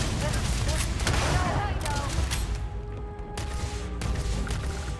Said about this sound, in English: I guess I figured out how to throw a grenade.